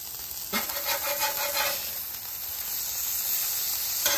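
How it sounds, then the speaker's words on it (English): A bun toasts in butter on a Halo griddle, a soft, steady sizzle and hiss with a brief scrape near the start, close and without talk. "Toast that bun a little bit,"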